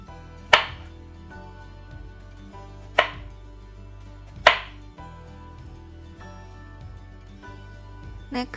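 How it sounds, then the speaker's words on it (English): A knife slicing eggplant and Japanese sweet potato into thin pieces, three sharp, separate cuts onto the board at a slow, uneven pace, with a fainter knock at the end and no talking. "I'm slicing them into 1/4-inch slices, so they're gonna be pretty thin"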